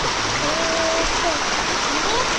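Rain falling steadily, a loud, dense wash of hissing water that fills the whole stretch without a break, with faint whistling tones and bird-like chirps drifting above it.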